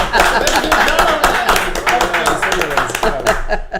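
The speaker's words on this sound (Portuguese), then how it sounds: "Isso merece uma salva de palmas" Applause breaks out as a dense run of clapping from a group, loud and close, with a voice talking over it throughout.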